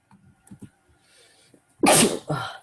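A loud, close sneeze bursts out in two quick parts after a few soft background noises, then fades.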